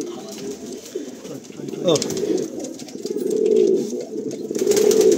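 Pigeons in a loft in Kolkata cooing in low repeated murmurs close by, with someone speaking over them throughout.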